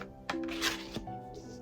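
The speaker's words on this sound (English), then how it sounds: "the deck is shuffled. Let's pull our first card." Soft papery shuffling and a few quick tarot card snaps close by as a card is pulled from the shuffled deck, with a faint hum in the background.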